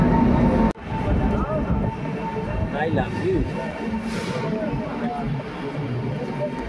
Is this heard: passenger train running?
yes